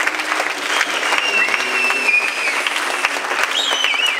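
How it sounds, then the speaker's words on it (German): Brief applause from the audience at the Big Brother Awards 2019 ceremony, following a laudation speech for PostFinance; steady, dense clapping fills the whole stretch at close range with no speech over it. "wo man am Schluss auch noch einen kurzen Applaus kann spenden bitte"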